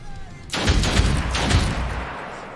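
A gunshot in the turn-based video game Othercide erupts suddenly after a quiet moment. It becomes a loud, sustained blast of fire with heavy low booms that slowly tails off.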